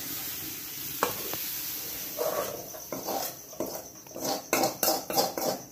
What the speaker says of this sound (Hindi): अब हम इसे दूसरे बर्तन में खाली कर देते हैं।